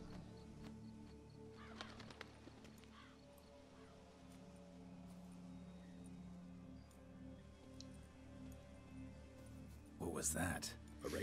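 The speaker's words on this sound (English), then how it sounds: "What was that? A raven?" A raven caws in The Witcher 3, a few harsh croaks sounding clearly over a steady ambient game soundscape, with a louder burst of activity near the end.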